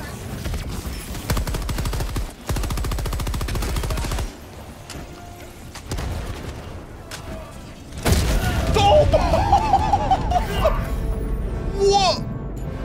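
Rapid gunfire and heavy artillery explosions from the video game Helldivers 2, with dense bursts of shots followed by a loud booming barrage and a voice speaking over the chaos.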